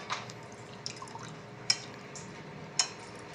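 Undrallu payasam, a sweet of rice-flour dumplings, simmering in a pot, giving off faint, sparse bubbling pops and soft drips over a quiet background.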